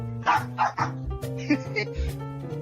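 A pet dog barks and yips several times in quick bursts, close by, with someone talking over and between the barks.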